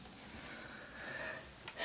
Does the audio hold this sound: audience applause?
no